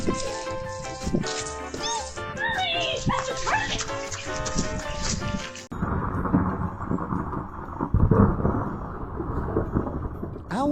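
Thunder during an outdoor storm, heard as a deep, rolling rumble in the second half. It follows a stretch of dog barking and whining, and the rumble swells and fades loosely.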